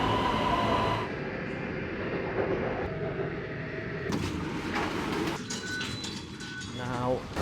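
A metro train rumbles steadily with rushing and rattling noise, shifting in tone as it moves along, with a brief squeal near the end.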